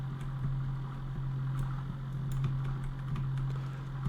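A tractor engine in Farming Simulator 25 idles steadily with a low, constant drone, overlaid with light clicking like keyboard taps.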